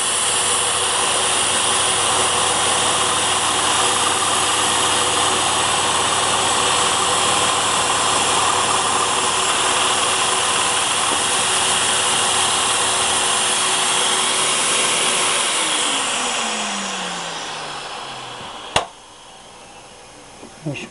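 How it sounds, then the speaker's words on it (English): Shop vacuum running during woodworking to collect dust, a loud, steady whine with an engine-like drone that holds for most of the stretch, then spins down as it is switched off, followed by a sharp click and quiet. "In a minute, I'm going to turn the vacuum off."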